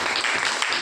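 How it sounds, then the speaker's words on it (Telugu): A church congregation claps steadily for just under a second, a dense and fairly loud burst of applause. "చప్పట్లు కొట్టి,"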